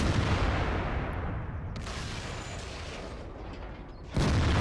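A T-34 tank cannon in World of Tanks fires with a heavy boom that rolls into a long fading rumble, followed by a second loud shot near the end.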